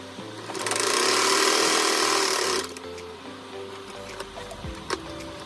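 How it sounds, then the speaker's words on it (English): A sewing machine stitches Ankara fabric shorts in a loud, steady run of rapid needle hum for about two and a half seconds, then stops, leaving softer handling clicks and small knocks. "sew straight down"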